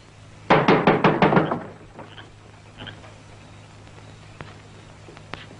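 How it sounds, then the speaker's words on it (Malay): About six quick, loud knocks land close on a door in a rapid burst, followed by a few faint taps and quiet room tone. "ketuk kuat sikit, Encik."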